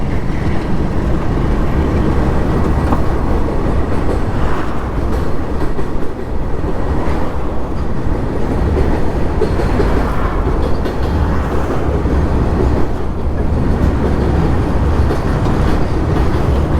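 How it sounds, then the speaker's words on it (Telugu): Train rolling slowly, a loud continuous rumble and roar heard from close by with heavy wind buffeting the microphone, steady throughout with faint rhythmic clatter underneath and no talking. "ట్రైన్ స్లోగా పోతుంది."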